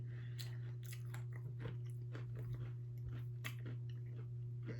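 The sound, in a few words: crunchy Thai snack being bitten and chewed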